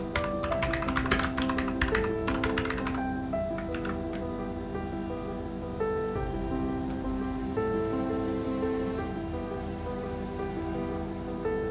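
Rapid typing on a computer keyboard clatters close and loud for about three seconds, followed by softer, scattered keystrokes over steady background music.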